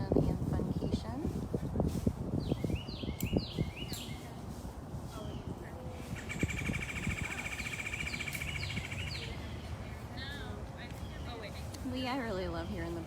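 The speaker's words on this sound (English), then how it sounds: "I really love hearing the birds too." Small birds chirp and trill outdoors at a big cat rescue, in short repeated phrases over steady background noise, with someone talking nearby.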